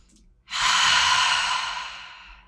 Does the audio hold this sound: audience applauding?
no